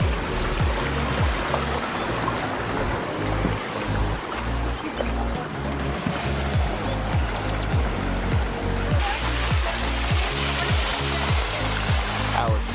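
Rushing water pours continuously from a Colorado waterfall, a loud broadband roar with a steady low rumble throughout and no voices.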